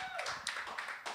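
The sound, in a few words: audience applause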